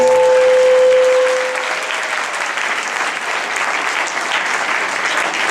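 Steady, dense clapping from a large audience, loud and sustained throughout, with no pauses.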